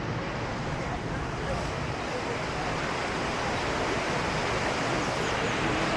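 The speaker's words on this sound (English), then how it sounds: "A little waterfall here." A little waterfall beside a hiking path near Volubilis or Chefchaouen in Morocco gives a steady, broad rushing hiss of falling water, constant and fairly close throughout.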